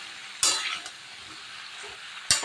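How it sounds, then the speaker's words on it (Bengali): Bottle gourd and potato being sautéed with turmeric, salt and tempered spices in a pan for a jal bora recipe; a steady sizzle with two sharp stirring scrapes, close and without talk. "মশলার সাথে এটা একটু কষিয়ে নেব"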